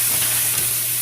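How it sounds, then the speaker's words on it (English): Onions softening in a pot as the base for ham hock vegetable soup, a continuous even sizzle and hiss with a low steady hum underneath, close and fairly loud. "I'm gonna cook this for a couple minutes until the onions are wilty"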